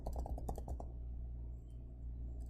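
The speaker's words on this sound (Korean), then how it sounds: "이유는 여기서 한번 타이핑해 볼게요" Typing on a computer keyboard, a quick burst of about eight close key clicks in the first second, then quiet room hum with no talking.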